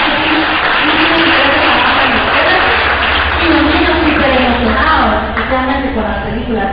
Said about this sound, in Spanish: Para que ustedes den un gran aplauso, por favor